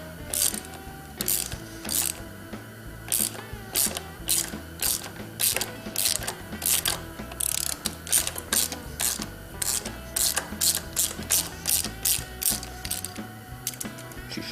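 A ratchet wrench clicks in repeated bursts of sharp ratcheting strokes while loosening a 14mm clutch bolt on a CR500 motorcycle, close and clear in a workshop.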